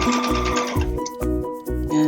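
A sewing machine stitches a cotton fabric mask, with a steady motor hum broken by rhythmic low thumping pulses about twice a second, close and fairly loud.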